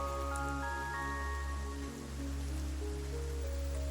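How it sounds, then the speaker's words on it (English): Rain falling in the video game Satisfactory, a soft continuous patter with steady tonal game music layered over it, faint and even throughout. "And we got some more rain."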